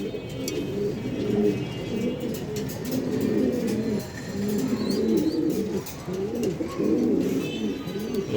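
Pigeons kept in a loft for sale coo in a dense, rolling chorus of low warbling calls, near and continuous, with a few faint chirps above.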